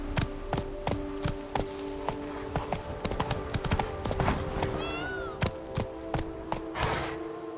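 Rhythmic hoof clip-clops from a horse in The Witcher 3, evenly spaced beats over a low steady hum, with a short neigh or call midway and no talking.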